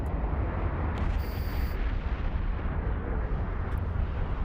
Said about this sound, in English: Nice explosions